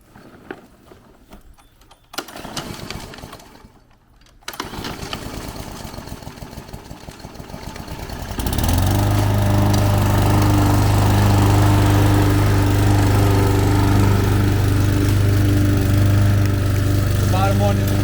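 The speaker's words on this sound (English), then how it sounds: "So this is how you start the lawnmower." A walk-behind lawn mower being started on a grass lawn: quiet handling noises and brief rattles, then the engine catches and settles into a loud, steady running drone with a strong low hum, close by and continuous.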